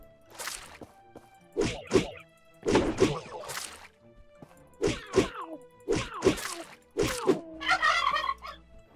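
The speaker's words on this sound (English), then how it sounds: "More chickens!" Chickens in the video game My Time at Portia give a series of sharp, clucking and gobbling calls in irregular bursts close by, ending in a fluttery rattle.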